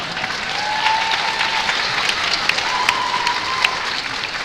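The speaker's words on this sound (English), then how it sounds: "You can clap." A graduation audience at a Bergen Tech ceremony breaks into sustained applause, dense steady clapping filling the hall for several seconds with scattered sharper claps and a faint tone running underneath.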